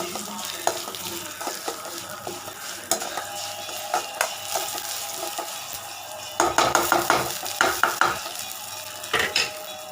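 Sesame seeds roast in a pan with a gentle crackling sizzle, broken up by scraping and clinking as a spoon stirs them, and the stirring grows busier and louder toward the end.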